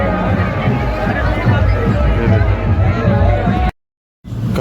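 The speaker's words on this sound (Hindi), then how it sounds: "ये देखिए बहुत ज़्यादा भीड़ है।" A large crowd at the Sultanganj Ganga ghat makes a loud, continuous babble of many voices close by, with someone talking over it, before a sudden cut to silence and a short return.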